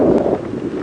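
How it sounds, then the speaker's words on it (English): Gusty wind on a hot day in the African bush buffets the microphone in a loud, rumbling rush, with a faint rustle on top during a safari drive. "But the wind is gusting."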